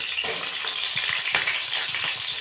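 Onions, green chillies, cardamom, cloves and cinnamon fry in a pan for a curd chicken curry, giving a steady close sizzle with a few soft stirring scrapes and no talking.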